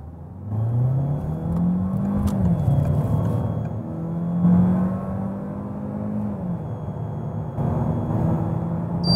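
A Citroen DS5 accelerates hard from 0 to 100 km/h with two people aboard, the engine rising steadily in pitch through several gear changes, a loud continuous in-cabin roar.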